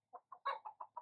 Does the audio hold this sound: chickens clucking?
yes